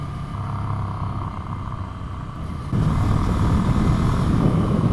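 A Ducati Scrambler motorcycle's torquey, low-revving engine rumble drones steadily, then grows louder and fuller partway through as the throttle opens, with road noise beneath.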